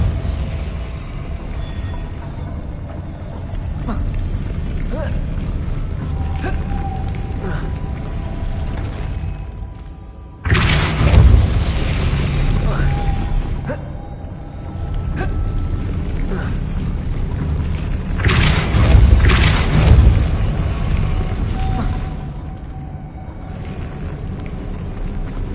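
Depulso force spell cast in the video game Hogwarts Legacy, giving two loud whooshing blasts with a booming rush, set against a steady game background bed.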